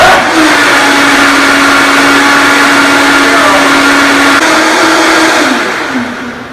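A Vitamix blender runs steadily at high speed on a spinach green smoothie, with a loud continuous whirring drone and a sustained motor tone that slows and dips near the end.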